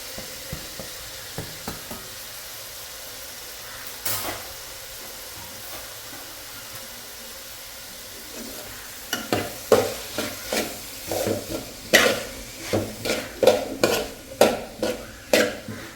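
Chopped capsicum and tomato sizzle in a hot pan for paneer bhurji, a steady frying hiss that turns busy in the second half with repeated scraping stirs of a spoon against the pan, close up with no talking.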